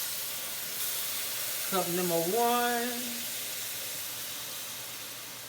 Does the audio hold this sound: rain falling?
no